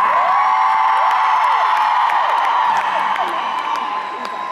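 A large concert crowd in Arena Leipzig cheers loudly and continuously, a dense roar of shouts, whoops and scattered claps that fades slightly toward the end.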